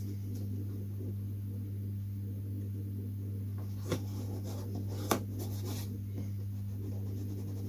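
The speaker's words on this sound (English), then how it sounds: "Let's put the masking tape on." Masking tape is pressed and smoothed onto a model airplane rudder in quiet, faint rubbing and scratching strokes, with two small sharp ticks over a steady low electrical hum.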